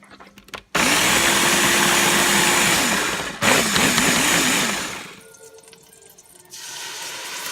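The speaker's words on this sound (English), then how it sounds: "But maybe I can put it in the blender." A blender whirs loudly while blending tomatoes, its motor roaring steadily for several seconds, briefly cutting out and restarting, then winding down to a lower hum.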